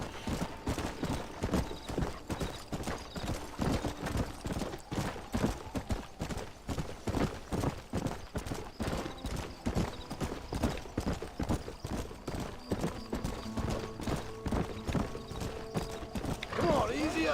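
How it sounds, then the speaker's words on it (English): A black stallion's hooves clip-clop in a steady, fast run of close, loud hoofbeats that fill the whole stretch, with a voice at times over them. "Ah, the slick black horse, the black stallion."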